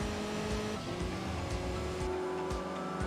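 Saab car engine with a blow-off valve in the racing game Enthusia, a loud close steady engine roar with rapid gear-change pulses and brief hissing bursts.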